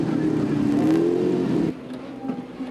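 A Lamborghini Supertrophy race car in the pits at Valencia, its engine droning loudly and then cutting off abruptly, with quieter pit ambience afterward.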